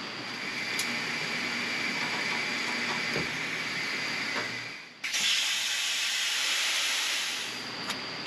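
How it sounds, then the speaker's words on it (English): Welding steel roll cage tubing for a Chevelle: a steady crackling hiss for about five seconds, a brief pause, then a louder, brighter hiss, close by with no talking. "let's weld the outside"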